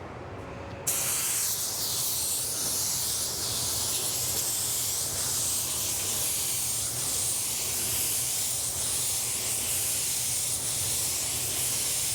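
Spray gun hissing steadily as it lays a half coat of Spies Hecker Hi-Tec paint, starting abruptly after a brief quiet moment and holding a loud, continuous airy spray nearby.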